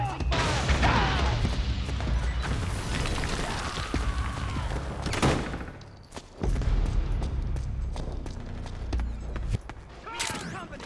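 Metal Gear Solid 4 firefight, with dense bursts of suppressing gunfire, crashes and impacts filling the scene, loud and close, with shouted voices mixed in and brief lulls between volleys.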